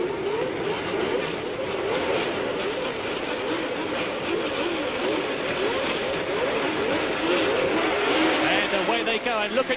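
Formula 1 cars at the start of the 1979 Canadian Grand Prix, a dense, steady blend of racing engines droning and rising together, with a commentator's voice over the top.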